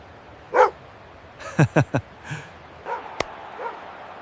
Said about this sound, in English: He is a happy dog.